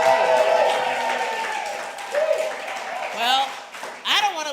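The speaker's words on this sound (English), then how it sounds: "So give her one more round of applause, y'all." Studio audience at a live news show gives a round of applause, clapping heard under and between voices, with cheers and whoops rising near the end.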